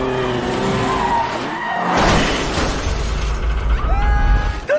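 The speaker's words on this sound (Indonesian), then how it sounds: "membuat mobil Jeong hilang kendali dan menyebabkan anak juga istrinya meninggal di tempat" In a film crash scene, a car skids and loses control with a long, loud tire squeal and roaring engine. A crunching impact comes midway, then more screeching at the end.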